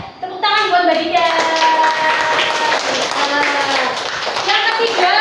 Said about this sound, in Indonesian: Tepuk tangan buat Mbak Dida.